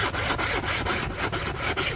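A small survival-kit saw cuts through a tree outdoors in a forest, close rhythmic rasping strokes about four per second, loud and steady with no talking.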